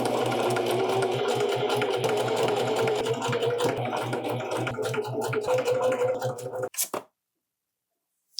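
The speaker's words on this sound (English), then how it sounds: "Let's do the zigzag stitching." A home sewing machine runs a zigzag stitch along raw fabric edges, a steady close whirring buzz that holds for nearly seven seconds, then cuts off abruptly into silence.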